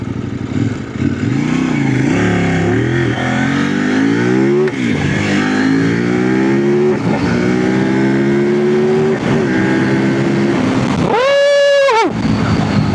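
A Kove 800X Pro motorcycle engine revs up through several gears, its pitch climbing repeatedly, then a sharp high whine passes close by near the end.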